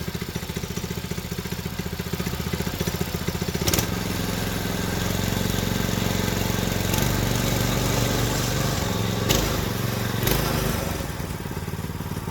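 Small Predator 212 engine powering a Volkswagen Baja Bug as it moves in gear, a steady loud mid-pitched putter with clattery rhythm, briefly surging and dipping in load throughout, no talking.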